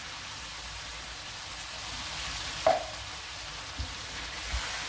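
Canned chopped tomatoes, a 400-gram tin, tipped into a pan of frying meat, bringing a steady low sizzle with one soft splash and a few light clinks, close by with no talking.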